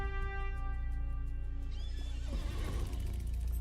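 Horse in the Lord of the Rings Online video game letting out a clear, drawn-out whinny, preceded by a steady buzzing game background and a few soft hoof clops, fairly close with no talk.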